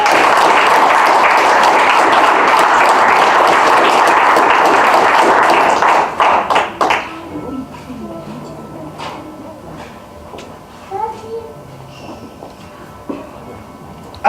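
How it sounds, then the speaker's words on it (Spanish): A church congregation applauds in a dense, loud burst for about six seconds, then the clapping breaks off into a few scattered claps, shuffling and faint room noises. "Denle un aplauso al Señor."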